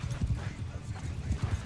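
Cavalry horses galloping in Bannerlord, a video game battle, with a steady drumming of many hooves close by, rhythmic low thuds throughout.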